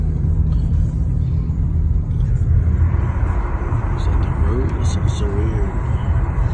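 BMW N55 engine on a car with Spool performance stage 3 tuning and low-pressure fuel pump, a steady close rumbling drone while driving, with a brief word spoken over it.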